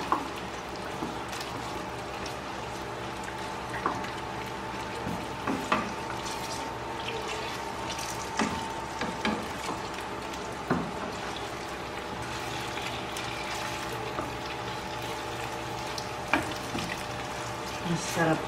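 Chopsuey frying in a pan, a steady close sizzle and crackle with small spatters and occasional utensil clinks running throughout.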